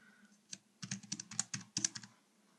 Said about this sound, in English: So it's really easy to type on.